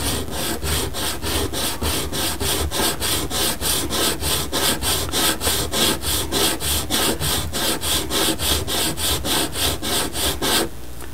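The wood edge of a theatre wall flat being beveled, with a fast, even run of rasping strokes that continues close and loud for about ten seconds before it stops abruptly.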